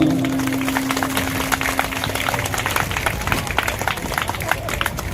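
An audience at a gathering applauds Soni bhaiya with sustained, fairly close clapping, and a voice talks over it.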